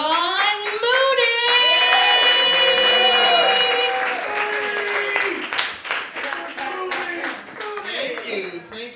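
Audience applause and cheering for a stand-up comedian coming on stage at a comedy show, loud and sustained, mixed with a crowd voice and a tonal musical sting that fades as the clapping thins out.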